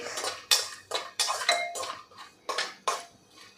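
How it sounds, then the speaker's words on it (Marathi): Dry desiccated coconut stirred and fried in a metal pan for a Nagpanchami offering, with a spoon scraping and clinking against the pan in steady, repeated strokes, close and fairly loud, and no talking. "सतत हलवत हे आपल्याला तळून घ्यायचं आहे"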